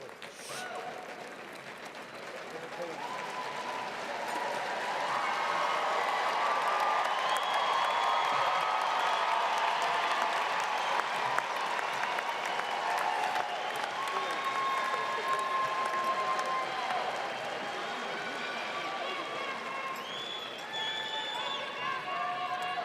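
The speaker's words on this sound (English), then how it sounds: "Please join me in another round of applause" A large commencement audience applauds a graduate receiving a master's degree in zoology, sustained dense clapping swelling over several seconds, holding steady, then thinning slightly, with scattered voices and cheers mixed in.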